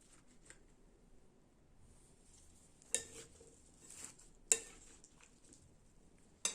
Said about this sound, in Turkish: Hepsini birden karıştırıyoruz